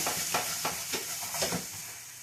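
Diced white onion sizzles with meat in a hot pan on medium heat, with about five quick stirring scrapes spaced through a short, fairly quiet stretch.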